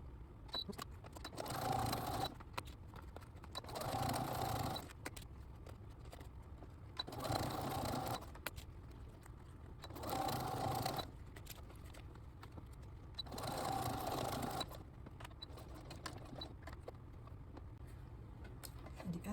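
A domestic sewing machine sews a zipper into a patio chair cushion, its motor whirring in four or five short, evenly spaced bursts separated by near-quiet gaps, close up with no talk.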